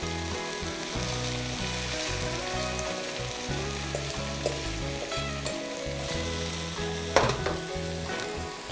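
Chicken wings with onion fry in a pan, a loud steady sizzle with rhythmic stirring and scraping throughout, plus a sharper clack near the end; no voices.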